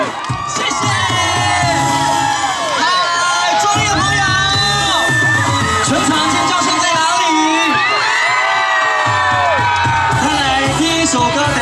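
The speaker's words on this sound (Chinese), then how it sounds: "我们中地所有的朋友，你们的欢呼声！" A large outdoor crowd at a Taiwanese-language classic song concert in Zhongli cheers and screams loudly and continuously, with a host's amplified voice shouting over the roar.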